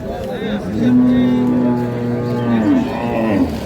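A single long, low moo from a dairy cow at a cattle market rises and holds for a couple of seconds, close and loud, against faint background noise.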